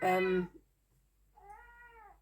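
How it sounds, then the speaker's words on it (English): A pet cat meows twice, a loud bright call followed after a short pause by a softer, drawn-out meow, close to the microphone with no talking. "sorry, my kitty wants to talk."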